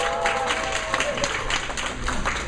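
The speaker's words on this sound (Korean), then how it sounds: "우리 브라이언 박수 한번 해주세요" A gathered congregation applauds for Brian, a steady wash of clapping lasting the whole moment, mixed with voices and crowd murmur.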